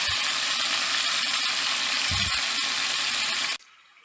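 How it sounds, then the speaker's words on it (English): Carili, or bitter melon, fries in hot oil with a dense, loud, continuous sizzle and a couple of soft low knocks from the pan, cutting off abruptly near the end. "I'm going to allow the Carili to fry a bit, stir it around a bit in the oil, let it fry up."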